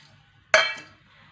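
Roasted moth beans (matki) drop into a mixer jar with a single sharp, ringing clink that fades quickly, with near silence around it.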